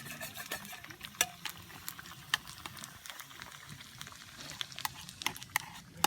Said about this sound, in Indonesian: ini di tumis spaghetti ya?